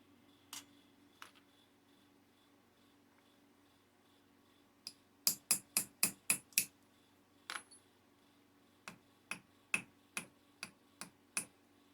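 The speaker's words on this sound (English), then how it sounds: "Just want to take a hammer and finish off that rivet." A hammer strikes a rivet on a hand-stamped hollow copper bead in sharp metallic taps, a rapid run of about seven close blows followed by a slower, evenly spaced series, quiet between hits.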